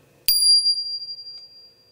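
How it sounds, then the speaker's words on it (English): Smallest handbell, struck once and ringing high and bright, a single clear strike that decays slowly and fades out over about two seconds. "And our smallest bell."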